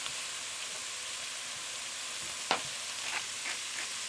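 Beef browns in a stew pot, a low steady sizzle and crackle with a few sharper pops of pieces dropping in, faint and continuous throughout.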